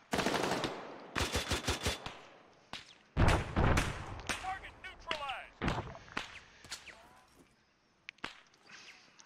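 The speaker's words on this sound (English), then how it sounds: "Just let that Mark 19 handle half the targets for us. And the 240 opened up." Mark 19 grenade launcher and 240 machine gun fire in an Arma 3 battle, with loud rapid bursts of automatic gunfire and sharp distant cracks in uneven volleys, then fading into quieter sporadic shots.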